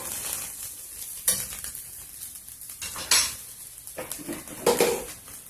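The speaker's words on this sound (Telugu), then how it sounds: "ఇట్లా ఫోర్క్ కానీ ఏదైనా మీ దగ్గర ఏదైనా కూడా చిన్న ఇట్లా స్పూన్ కానీ ఉన్నా కూడా దాంతో కలుపుకోండి" Cooked capsicum rice being stirred with a fork or spoon, a series of scraping clinks and soft scrapes against the pot over a faint background sizzle.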